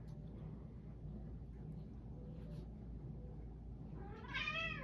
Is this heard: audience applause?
no